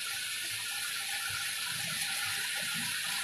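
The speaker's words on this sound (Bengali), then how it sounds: "বাটিটা ধুয়েও আমি একটুখানি জল দেব।" Water from a rinsed bowl is poured into spice paste frying in oil, giving a steady, loud sizzling hiss with faint bubbling that continues throughout with no talking.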